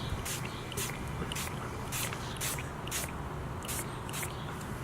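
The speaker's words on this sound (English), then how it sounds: "spray the sneaker with the E6000. So what I'm gonna do, nice and easy, is spray all over the sneaker." Repeated short bursts of E6000 adhesive sprayed onto a sneaker, about nine quick hissing puffs in a steady rhythm over a faint background hum.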